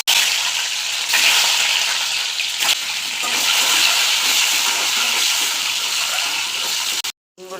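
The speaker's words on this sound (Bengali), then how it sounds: "আমি তেলের মধ্যে এক এক করে ডিমগুলো দিয়ে দেবো।" Eggs dropped one by one into hot oil in a heated kadai crackle and sizzle with a loud, steady hiss that holds for about seven seconds before cutting off abruptly.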